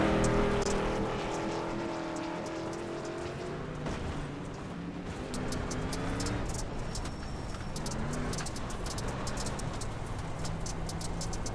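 Street stock race car heard from onboard at Crandon as it drives over humps, its engine roaring steadily and rising and falling in pitch, loud and close, with wind and rattling throughout.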